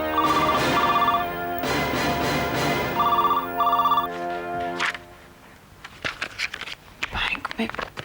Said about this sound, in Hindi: फोन है, उठाओ